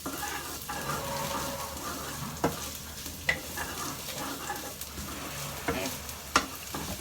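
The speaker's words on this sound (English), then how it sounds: "So my aromatics are cooking." Ginger and other aromatics fry and sizzle steadily in a pan while being stirred, with sharp scrapes and clacks of a utensil against the pan at irregular moments, close and fairly quiet, with a single brief spoken word.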